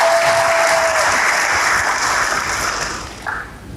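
Church congregation claps together in a lively burst of applause that fills the space, tapering off near the end.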